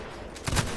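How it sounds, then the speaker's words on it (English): A musket volley in a line-infantry battle game, a short crackling burst of several shots fired close together, loud over a steady background of battle noise. "Proceed to shoot them dead if you can."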